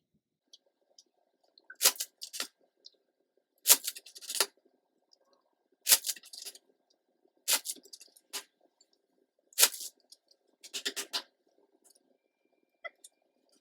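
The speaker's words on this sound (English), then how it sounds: "Let's shuffle." Tarot cards being shuffled in short riffled bursts, several crisp papery flurries separated by pauses, close and fairly quiet with no talking.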